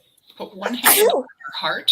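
A single sharp sneeze bursts out in the middle of a guided self-care and breathing session, loud and close, with a woman's calm instructions spoken before and after it.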